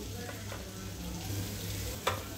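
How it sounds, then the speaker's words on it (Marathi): Chopped onion frying in butter with garlic, a steady close sizzle running throughout with a few soft stirring scrapes and one brief clink near the end. "आता कांदा पण थोडासा भाजून घ्यायचा आहे त्यामध्ये, बटर आणि लसणामध्ये।"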